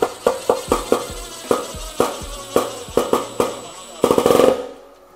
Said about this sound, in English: Then taking a screw gun, I'm simply just gonna tighten this up.